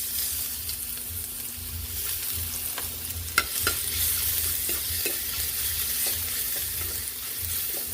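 Garlic sautés in a hot pan, a steady near sizzle with a few scraping stirs and a sharp clink partway through, no talking.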